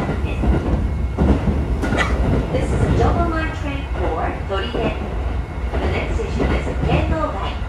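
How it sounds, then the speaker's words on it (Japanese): A Tokyo Metro 16000 series train rumbles along the track with rhythmic clattering and squealing wheel tones, loud and close, heard from inside a carriage. "明らかにこの電車は東京メトロの車両でございます。"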